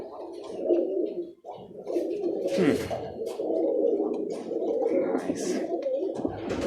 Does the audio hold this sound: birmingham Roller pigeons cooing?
yes